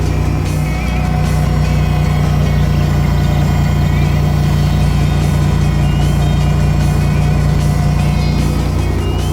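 Irisbus Citelis CNG city bus idling close by, a loud steady low engine hum with a constant tonal drone, unbroken for the whole stretch.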